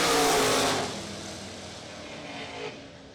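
1972 Vega drag car at a bracket race, a loud broadband engine roar bursting near at the start and then fading into a lower, sustained rumble as it pulls away down the strip.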